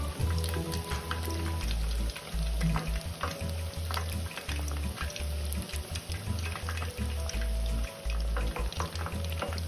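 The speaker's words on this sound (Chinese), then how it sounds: "这时候油锅内的茄子菜饼也快好了。" Eggplant fritters fry in a wok of hot oil with a continuous crackling sizzle, broken by steady low clatter and stirring noises, with no voices.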